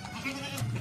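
A long-eared Beetal goat gives a brief, faint bleat at close range.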